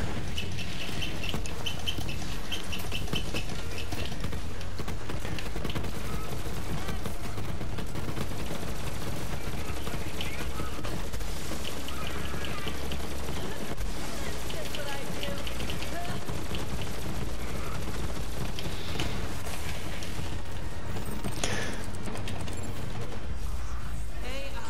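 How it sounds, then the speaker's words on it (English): Rapid, repeated weapon fire from the scourge in a shooter video game, dense and loud throughout, with game effects and music layered underneath. "Now on this bridge section, we're just gonna spam scourge shots"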